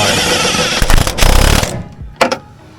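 A power tool tightens a three- to four-inch bolt on a Toyota AE86, starting with a loud, dense buzz, then rattling impact bursts and a few short hits near the end.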